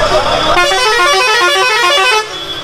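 A bus leaving a bus stand sounds a long, loud, close multi-tone horn blast lasting nearly two seconds, preceded and followed by street bustle.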